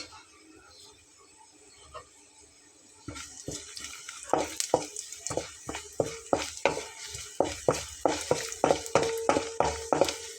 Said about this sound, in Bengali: এবং সেই সঙ্গে আমি এখানে দিয়ে নিচ্ছি তেজপাতা আর দিয়ে নিচ্ছি শুকনো মরিচ